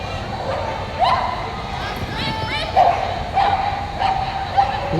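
A border collie barks several times during a dog agility run at a competition, sharp yips heard at a distance under steady commentary and arena noise.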